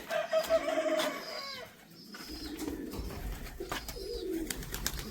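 Australian pigeons and their chicks on a farm give soft, rolling coos and warbling calls. Other bird chatter comes and goes around them at close range.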